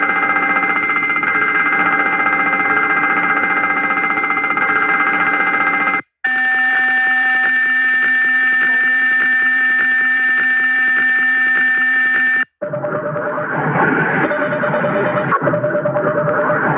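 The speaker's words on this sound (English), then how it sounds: "Fire number 1 engine. Fire number 2 engine." Airplane cockpit engine fire alarms sound as three long, loud blocks of steady electronic warning tones, each separated by a brief gap, with the pitch and character changing between blocks.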